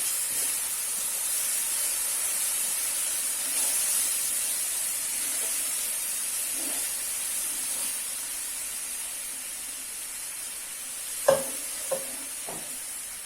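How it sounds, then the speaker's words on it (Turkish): Hot sugar syrup poured into flour halva sends up a steady, loud frying hiss while a utensil stirs the pan, with soft scraping throughout and a few sharp knocks near the end. "Şerbetimizi şimdi yavaş yavaş ilave edeceğiz. Bu aşamada çok dikkat edin. Çünkü taşabilir. Yavaş yavaş karıştıralım."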